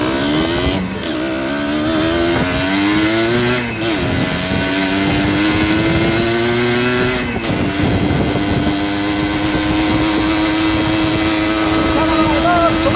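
A motorcycle engine drones loud and close on a short trail ride, its pitch climbing and settling as the throttle shifts, with a voice now and then.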